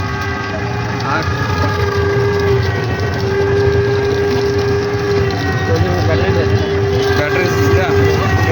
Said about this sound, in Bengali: ব্যাটারি সিস্টেম এর মোটর লাগানো আছে